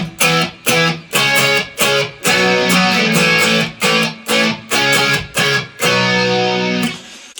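Electric guitar through a Mesa Boogie amp on its clean channel, with flange, reverb and a Tube Screamer at its lowest setting adding slight crunch, playing choppy rhythmic chords that ring out with short gaps, loud and alone.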